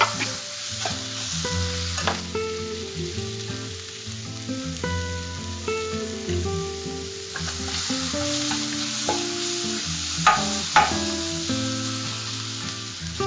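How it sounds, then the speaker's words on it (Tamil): Steady, loud sizzling and frying of tomatoes and salt added to mutton keema in a pan, with stirring scrapes and occasional clinks throughout and no talk. "இப்போ வந்து தக்காளி போட்டுக்கலாம். தக்காளி போட்டுட்டு இந்த டிஷ்ஷுக்கு தேவையான உப்பு போட்டுக்கலாம் கூட."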